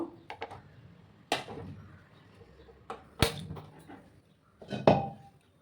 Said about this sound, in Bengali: দেখো আমি একটা কড়াই বসিয়ে দিলাম